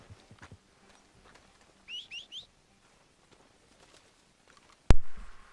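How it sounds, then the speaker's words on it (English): A quick three-note whistle calls a horse in Red Dead Redemption 2, surrounded by quiet ambience and followed by a sharp, loud thud. "Lucky my horse is in whistling range."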